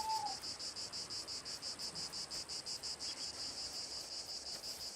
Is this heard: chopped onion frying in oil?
no